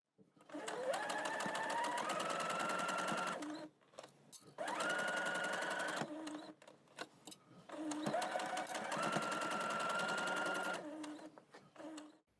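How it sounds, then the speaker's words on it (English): Domestic sewing machine stitching between the gathers on a dress, whirring up to speed in three steady bursts separated by short pauses. "you can then take it to the sewing machine and sew. I like to make my stitch line in between those gathers"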